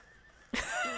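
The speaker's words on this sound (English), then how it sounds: "I hear horses." After half a second of near silence, a horse's whinny in the video game Red Dead Redemption 2 bursts out suddenly and carries on, fairly loud and close.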